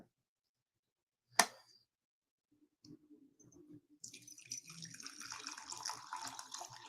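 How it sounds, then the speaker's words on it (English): Hot water poured into a solid ceramic mug: a sharp click first, then a rising, steady splashing pour that builds and continues close up, without speech. "So let me get this hot water."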